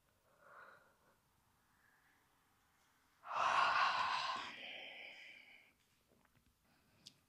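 A single long, breathy yawn rises loudly out of quiet and then fades, with a softer breath heard just before it.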